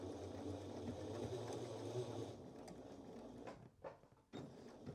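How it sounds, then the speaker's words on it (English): A sewing machine stitches a seam down a dress toward the vent mark, a close steady mechanical whir that stops halfway, followed by a few soft clicks and handling taps. "I'm going to sew all the way down until I get to that dot for the vent"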